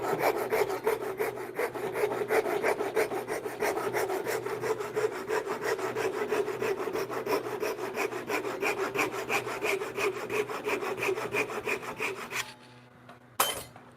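A hand saw crosscuts wood in a steady, fast back-and-forth rhythm of rasping strokes, close and loud, during a bunk bed build; the sawing stops near the end, leaving a few faint knocks.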